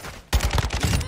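Video game gunfire in a ranked match erupts suddenly as a loud, close burst of rapid shots lasting about a second.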